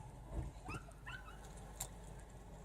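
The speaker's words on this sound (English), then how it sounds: "There was a couple husky puppies in the back of the truck, and they were just howling." Husky puppies in the back of a truck at Yosemite let out faint, distant whimpering yips and short howl-like cries, a few brief calls over quiet outdoor background.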